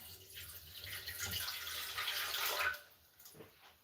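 Warm water poured into a bread maker pan for a homemade loaf, a steady close splashing trickle lasting a few seconds before stopping, followed by quieter faint handling noises.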